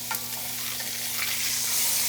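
Beef cheeks sear in a hot pan with a steady, close crackling sizzle that builds slightly louder toward the end, with a brief scrape as the pieces are turned.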